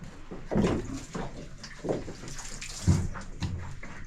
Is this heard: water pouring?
yes